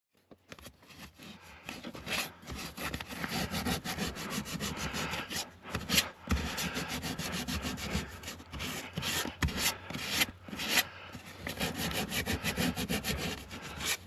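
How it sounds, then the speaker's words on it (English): A wooden window jamb in a tiny house is sanded by hand, with continuous close scratchy rubbing strokes that carry on steadily throughout the clip. "let me go sand that"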